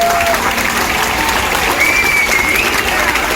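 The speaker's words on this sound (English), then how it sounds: "Let's have a round of applause." Theatre audience aboard the cruise ship MSC World Europa breaks into loud, continuous applause after a memory act, with a brief whistle rising over the dense clapping.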